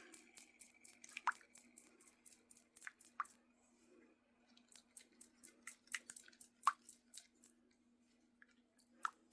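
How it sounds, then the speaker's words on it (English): Chex Mix stirred with seasoned salt, garlic powder and onion powder, soft crunchy rustles and scrapes in scattered clusters with brief pauses, close and quiet, with no talk. "I'm going to mix that up here."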